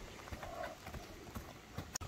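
Hooves of a grey young horse clip-clop steadily as it is led out at a horse sale, a run of close, soft thuds over constant background noise.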